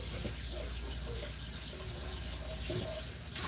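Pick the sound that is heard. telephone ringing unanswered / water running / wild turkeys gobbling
water running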